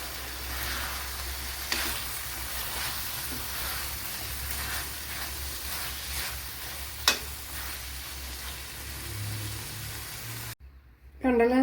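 Cooked chickpeas with chili flakes sizzle and fry steadily in a pan while being stirred, a close continuous crackle with a brief knock of the spoon, ending in a short cut.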